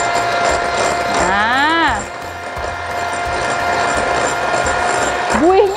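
An electric mixer whips egg whites with sugar for meringue, its motor whine climbing in pitch as the speed is raised, then rising again near the end, with a person talking over it.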